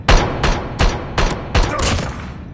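Gunfire in Call of Duty Mobile on the Terminal map: five or six loud, sharp bursts in a steady rhythm, each with a short decaying tail, close and with no talking.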